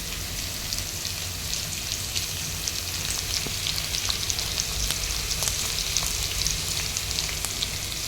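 Two large chopped onions fry in hot oil in a pan for a curry, giving a constant close, crackling sizzle with scattered sharp pops and no voices.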